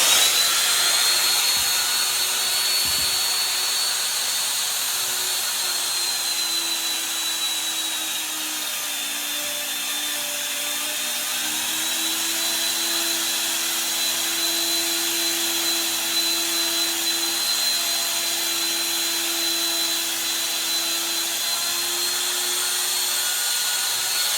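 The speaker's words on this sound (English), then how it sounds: "with a router. I'm gonna do it freehand because that's how I do things." A handheld router cuts a slot in wood freehand, its steady high whine running loud and continuous throughout, pitch dipping slightly under load in the middle before recovering.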